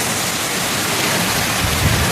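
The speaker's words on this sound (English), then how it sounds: "you can see the rain coming down again and the winds" Heavy rain and wind from Hurricane Melissa in the early-morning darkness make a dense, constant roar of pouring water with gusting wind, loud and unbroken throughout.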